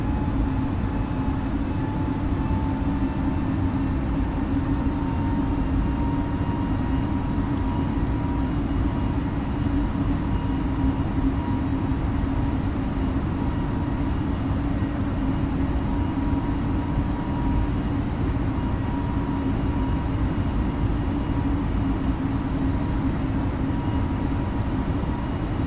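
An airliner climbs out after departure in Microsoft Flight Simulator, an EasyJet flight in UK airspace, giving a loud, steady engine roar with a constant low drone that holds evenly throughout, no voices over it.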